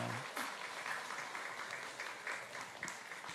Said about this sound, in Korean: 박수로 한번 인사를 좀 올려드리도록 하겠습니다